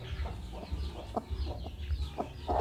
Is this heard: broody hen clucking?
yes